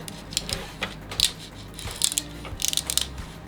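Supports snapping and cracking off a 3D-printed PPA-CF carbon-fibre nylon part, a series of sharp close clicks and crunchy breaks in irregular bursts, with no talking.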